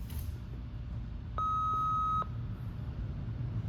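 A steady electronic beep tone from a GPS logger's transmitter speaker sounds for under a second against a low background hum, clean and fairly loud.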